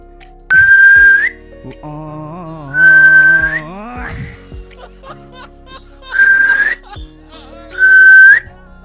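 A pressure cooker whistles while cooking vegetables: four loud, shrill whistle blasts spaced a couple of seconds apart, with a gliding tonal sound between the first two.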